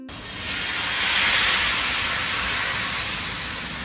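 Rice flour neer dosa batter poured onto a hot cast-iron tawa greased with oil, a loud, steady steam hiss swelling in the first second and holding throughout, with no talk.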